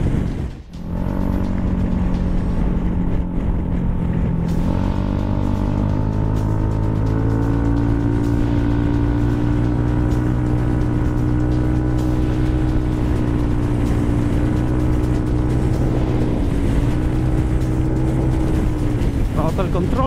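A Yamaha NMAX scooter rides on throttle alone without braking, its engine drone shifting pitch as the throttle rises and eases, loud and close throughout under a rider's talk.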